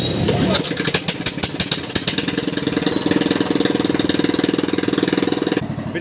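A freshly rebuilt engine being broken in at a shop runs loud and close, with a steady rapid knocking chug throughout and a brief rise in revving near the start.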